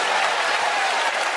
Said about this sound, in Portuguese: Eu vou pedir palmas misturado com glória a Deus.